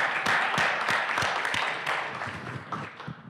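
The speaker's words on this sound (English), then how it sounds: "The rest of you guys, give them a hand clap." An audience at a Jenkins user conference in San Francisco breaks into brisk applause for two attendees. The dense clapping is loud at first and then thins and fades over a few seconds.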